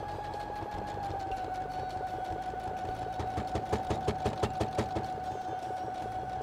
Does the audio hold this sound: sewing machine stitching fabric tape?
yes